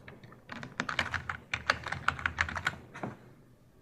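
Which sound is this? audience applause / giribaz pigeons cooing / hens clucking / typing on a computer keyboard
typing on a computer keyboard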